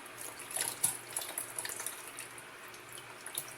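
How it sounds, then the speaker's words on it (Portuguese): Warm water is poured from a small container into homemade whole-wheat bread dough, a close, light trickle with faint splashes and drips for a few seconds. "Eu vou botar um pouquinho de água aqui"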